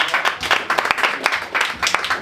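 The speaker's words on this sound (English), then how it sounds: "Give it a round of applause, everyone." An audience at a comedy roast battle applauds, dense rapid clapping that surges and dips across a couple of seconds, fairly close and without talk.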